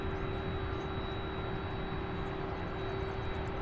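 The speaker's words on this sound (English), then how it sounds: "Next up, this A300 heading to Sioux Falls, South Dakota, an A300 UPS 2580." A UPS Airbus A300 jet departing Louisville airport, a steady broad engine roar heard from a distance, constant and unbroken, with a faint tonal hum running underneath.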